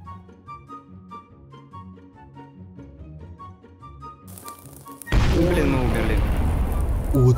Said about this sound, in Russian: Вот это жахнуло.